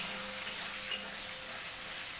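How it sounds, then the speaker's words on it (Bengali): Onions frying in oil, a steady bright sizzle held at an even level, close and alone, with one brief louder crackle midway. "এই যে তেলের মধ্যে পেঁয়াজ ভাজা হচ্ছে"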